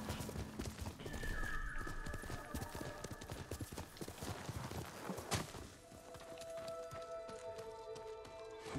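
Hoofbeats of a horse clip-clopping in Ghost of Tsushima, a steady rhythmic trot that runs through the whole scene with a brief whinny, mid-distance over ambient game sounds and music.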